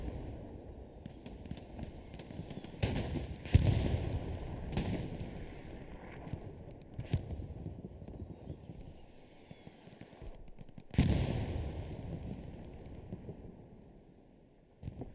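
Artillery and gunfire in the game Hell Let Loose during a squad line battle, scattered loud booms and sharp cracks, some near and some distant, with quieter gaps between the impacts.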